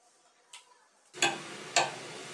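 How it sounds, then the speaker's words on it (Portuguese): A clock ticks in a quiet room, with a few sharp, evenly spaced ticks, fairly faint and close, and no talking over them. "o tic-tac de um relógio"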